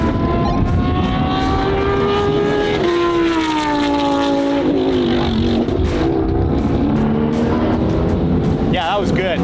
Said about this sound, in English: Roll on the throttle as soon as you can